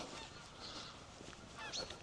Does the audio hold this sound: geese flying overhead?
yes